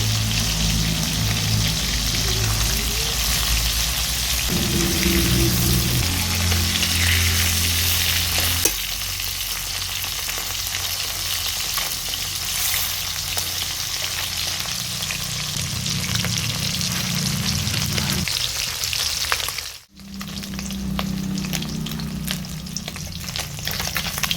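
Chapila fish sizzling as they fry in oil, a loud, dense, continuous crackle close to the pan, with occasional shifts and a brief dip as the pieces are moved or turned.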